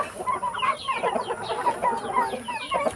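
Several heritage free-range chickens of mixed breeds cluck continuously nearby, overlapping soft calls in an uneven, busy rhythm.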